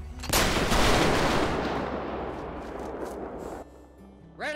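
Rifle volley fired at a funeral by a uniformed detail: a loud simultaneous crack of gunshots followed by a long rolling echo that fades over several seconds, with faint voices near the end.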